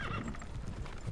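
Horses trot with steady clip-clop hoofbeats and whinny in Warcraft 3: Reforged, set against a dense game soundscape.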